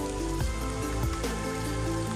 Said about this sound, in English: they have started to drizzle